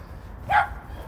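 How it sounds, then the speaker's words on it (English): Outdoors during a morning walk, a single short dog bark sounds at moderate distance over a low steady background rumble. "Oh, what are these dogs today?"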